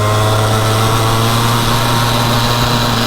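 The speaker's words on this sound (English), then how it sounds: "I'm in second gear, so it's bogging." A small mini Porsche GT3RS kart engine bogs in second gear, a loud, steady, strained drone with a strong low hum and buzzing overtones, unchanging throughout.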